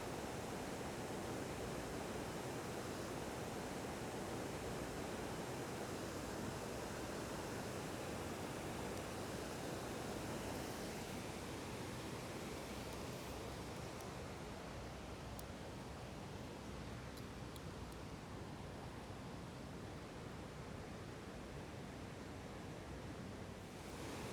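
Water pours steadily over the weir at Dobbs Lock on the river, a loud, continuous broadband roar of falling water that stays even throughout with no voices.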